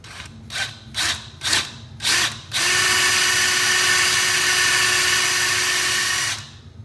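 Several short bursts from a power drill, then one long continuous whine of drilling lasting about four seconds, loud and close, during a guitar potentiometer upgrade repair.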